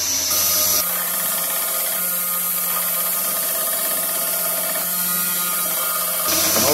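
A forged steel herb cutter blade is ground against a power grinder, a loud, close, steady abrasive hiss and whine with slight pitch shifts as pressure changes, running continuously without talk.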